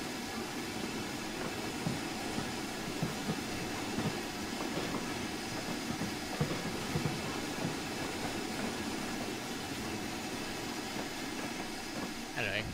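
A J50 tank locomotive on the West Somerset Railway in Train Simulator 2018 runs slowly, with a steady rumbling rail noise and faint rhythmic wheel clicks throughout, a voice talking over it.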